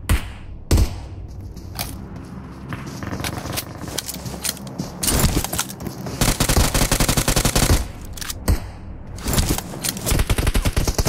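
Gunfire in the mobile battle-royale game BGMI (PUBG Mobile): loud bursts of automatic fire and rapid single shots, dense and continuous for most of the stretch, with a few brief gaps and thuds between volleys.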